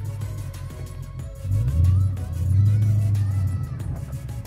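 Car drifting under throttle with countersteer, engine revving and droning in low rising surges with a strong rumble, close and loud.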